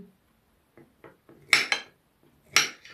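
A knife cuts salad ingredients into pieces for a pineapple salad with chicken and mushrooms. Several sharp, close taps hit the board, with two louder clusters of strikes amid quiet kitchen handling.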